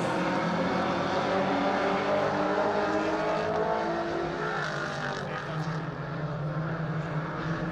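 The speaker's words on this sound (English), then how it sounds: "We're back racing for 10 more laps." Race car engines roar continuously around a racing circuit, a dense, loud drone with pitches sliding up and down as cars accelerate and pass, with no voices.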